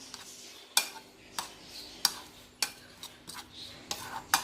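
An egg being mixed in a bowl for a breakfast egg toast sandwich, heard as a series of sharp, evenly spaced clinks of a utensil against the bowl, close and fairly quiet with no talking.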